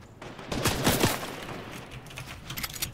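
Fortnite Battle Royale gunfire comes as a quick burst of rapid shots near the start, then thins into scattered, fainter pops.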